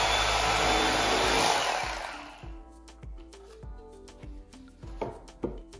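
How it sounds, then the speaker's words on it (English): An electric bread cutter trims excess foam from banquette seating boards, a loud whining motor buzz at first that then gives way to quieter, repeated cutting strokes and clicks, close by with no talking. "I'm just going to take my bread cutter and cut around any of the excess foam"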